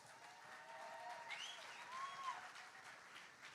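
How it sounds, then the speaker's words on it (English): An audience at a startup awards ceremony in Cape Town applauds an honoree, a soft, steady spread of clapping heard at a distance, with faint tonal sounds rising briefly over it. "So please, just a massive round of applause for Matt."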